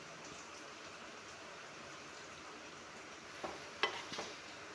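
Mango pickle simmers in a pan, a soft continuous bubbling hiss with a few louder pops and spatters near the end, with no voices.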